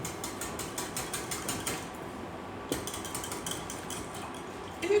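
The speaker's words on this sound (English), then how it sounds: "I'm just going to whisk everything together" A whisk beats coconut milk and eggs in a container, giving fast, rhythmic scraping strokes that pause briefly midway and then resume steadily, close by and alone.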